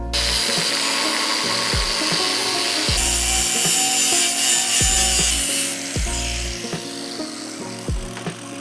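A steel rock slider tube for a 4th gen Toyota 4Runner being cut with a power saw, a loud continuous grinding whine with repeated strokes and dips as the blade bites through the metal.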